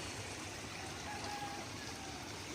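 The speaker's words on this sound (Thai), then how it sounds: "น้ำล้นตลิ่งครับ จากแม่น้ำป่าตักนะครับ" Floodwater from the Pa Sak River spilling over its banks into the Si Sa-at community, Moo 11, Tan Diao, Lom Sak, Phetchabun, rushing as a steady, broadband wash of flowing water close by throughout.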